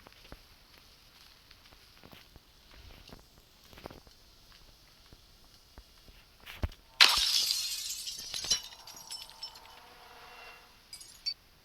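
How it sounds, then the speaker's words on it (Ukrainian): A stone smashes a glass window in the video game Granny 3: one loud, sudden shatter with tinkling shards that fades over a couple of seconds, after quiet footsteps and faint shuffling. "І один камінь, щоб розбити скло."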